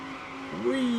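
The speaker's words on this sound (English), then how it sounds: "Whee! Sliding that car." A TCR/GT4 race car in a racing video game slides through Spoon curve at Suzuka, tires squealing in a rising, sustained whine over the steady engine drone, loud and close from cockpit view, with a voice talking over it.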